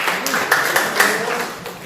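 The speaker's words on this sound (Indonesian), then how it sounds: "Ya, tepuk tangan." A short round of clapping from a small group during a school mentoring session, brief and fairly close, with a few sharper claps standing out and light voices mixed in.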